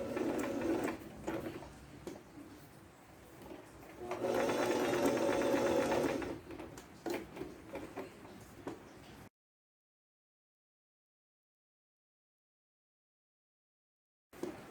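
A sewing machine stitches fabric for a cloth rag doll in bursts of steady, rapid clatter, with one longer run in the middle and short stops in between, followed by a long silence.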